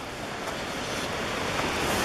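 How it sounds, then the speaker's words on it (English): Branch of the Au Sable River near Whiteface Mountain in winter, rushing water as a continuous, even broadband roar with no voices. "branch, either the east or the west branch of the Au Sable River."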